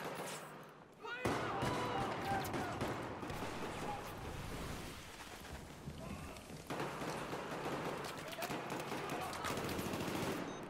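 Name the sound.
gunfire in Battlefield 4 video game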